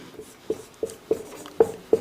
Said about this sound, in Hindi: लिखा गया है, थोड़ा बड़ा लिखते हैं।